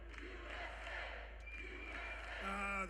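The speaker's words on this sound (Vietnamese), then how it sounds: "Đám đông đang reo hò USA" A large, fired-up crowd at a Trump campaign rally in Georgia chants USA in a steady, roaring mass of voices, with a brief amplified tone rising near the end.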